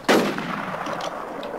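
A single sharp sniper rifle shot in the zombie survival game Infestation: The New Z cracks loudly at the start, then trails off into a long, fading echo.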